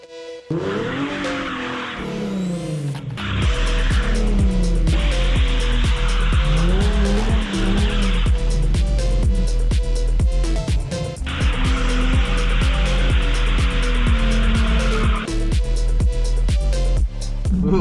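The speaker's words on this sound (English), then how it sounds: "Let's see how it does some circles." A Nissan 370Z with VDC switched off spins circles, the engine roaring close up as the tires squeal and skid in long, continuous shrieks that swell and waver with the throttle.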